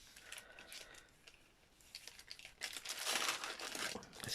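Greaseproof paper crinkles and rustles while being handled during fabric collage work with sticky tape, in irregular bursts that build to a louder, denser crackle toward the end.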